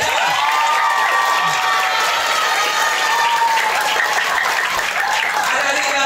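A large group claps steadily for Pak Puji at a youth English and character camp, with scattered cheers and children's shouts mixed into a dense, continuous wash of applause.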